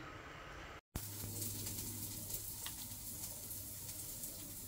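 Laing, taro leaves, simmering in a pot on a farm kitchen stove, giving a steady soft sizzle and bubbling hiss with a low hum underneath, after a brief cut in the sound.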